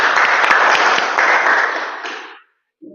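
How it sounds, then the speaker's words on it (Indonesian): A classroom audience claps together during a school lesson on religious education. The dense, even applause lasts about two seconds and then stops abruptly, leaving silence. "kasih aplaus untuk Sarauni."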